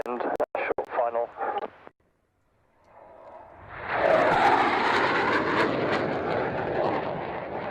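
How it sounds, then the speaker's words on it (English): A Eurofighter Typhoon jet passes over an RAF airfield, its roar rising from faint to a loud, broad rush that holds to the end, preceded by a commentator's voice and a brief quiet gap. "And here it is, the fabulous Typhoon."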